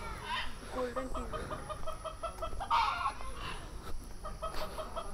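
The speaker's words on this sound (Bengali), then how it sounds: "এই যে এগুলো মোরগ।" Roosters cluck in a forest area, with short repeated calls and a few louder bursts standing out over a steady, noisy outdoor background.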